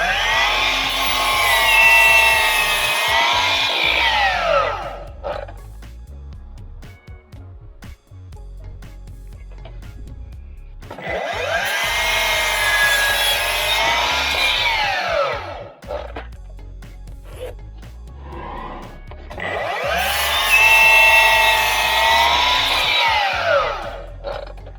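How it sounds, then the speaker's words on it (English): A power saw cuts a piece of timber into two blocks, squaring off the end first. Three loud, sustained bursts of whining saw noise, each about five seconds, are separated by quieter pauses, with no talk. "I'm gonna cut the 2 blocks out of this one piece. I just want to square off the end first."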